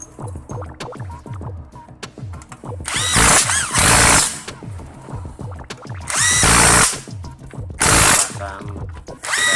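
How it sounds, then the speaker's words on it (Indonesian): Power tool or ratchet wrench tightening gear case bolts with a 12 mm socket on a Honda GX160 stamper engine, three loud whirring bursts over a steady running engine hum in the background. "pasang baut pengancing gear case, dan kencangkan bautnya menggunakan kunci 12-an"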